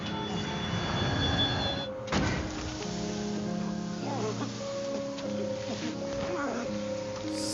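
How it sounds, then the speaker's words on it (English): A heavy metal door opens in a dramatic TV scene, with a thunk and a sliding, scraping rumble followed by resonant tones, while people talk over it. "Metal door."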